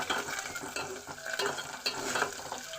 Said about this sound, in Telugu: నూనె వేసాను ఫ్రై అవుతుంది